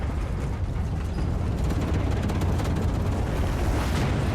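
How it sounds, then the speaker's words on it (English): A star explodes in the space survival base-building game StarRupture, as a loud, continuous rumbling roar of dense broadband noise. It holds steady and swells slightly toward the end, with no talk over it. "Thanks for the warning, as the sun is exploding."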